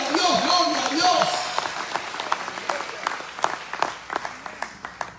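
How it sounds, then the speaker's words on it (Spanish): Church congregation clapping hands during a Spanish-language evangelical service, dense applause mixed with voices that thins into separate sharp claps toward the end. "Dele palmas al Señor en esta mañana."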